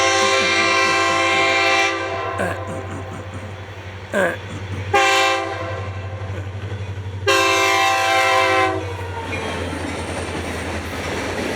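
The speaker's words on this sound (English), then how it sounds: "It's the red, white, and blue Honoring Veterans locomotive." A Florida East Coast Railway locomotive in red, white and blue livery rumbles steadily nearby with a loud, low engine drone, while bursts of a multi-tone horn sound several times over it.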